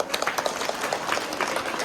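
Audience clapping at a Tamil temple gathering honoring the temple management committee, a dense steady patter of many hands lasting a couple of seconds with no voices over it.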